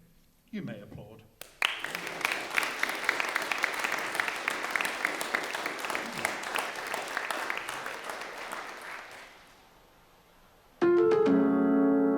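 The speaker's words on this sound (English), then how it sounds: "You may applaud." Audience applause at a pantomime, a dense sustained burst of clapping lasting several seconds before fading, followed by a sudden loud harmonic musical sting.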